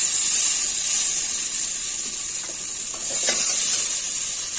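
Spices and soybean chunks frying in a pan for a potato-soybean curry, a steady close sizzle and hiss throughout, with a few faint stirring scrapes midway.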